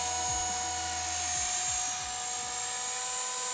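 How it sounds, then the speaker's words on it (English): Ares Optim 300 CP RC helicopter hovering outdoors with its brushless motor whining steadily at a high pitch, rotor chop pulsing underneath and drifting slightly in gusty wind, loud and continuous. "this is a really nice helicopter. It's very stable on 6-axis"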